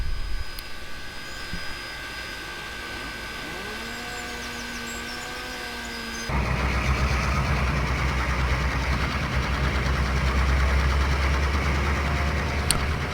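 A locomotive engine in Trainz Railroad Simulator 2019 on a Smoky Mountain lumber run drones with a steady low hum, jumping to a louder, fuller rumble halfway through and holding there, with no talk.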